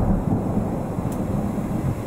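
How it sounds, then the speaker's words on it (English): Thunder during a thunderstorm while camping in a truck, a loud, deep, continuous rumble that rolls on with rain and wind mixed in, with no voices. "that was probably the loudest thunder I've like ever heard in my whole life"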